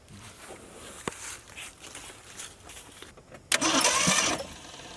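A seized Ford Maverick left sitting for 26 years turns over with faint, uneven cranking and a few knocks, then a louder burst of engine noise briefly rises before fading.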